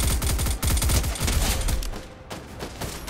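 Rapid bursts of automatic gunfire crackle close and loud during a Fortnite Zero Build squads match, a dense volley for about two seconds that then thins into scattered, quieter shots.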